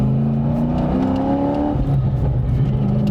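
Nissan Skyline GT-R engine on a downshift with a heavy-duty clutch, a steady close engine drone with pitch steps and revving inside the car, no talk.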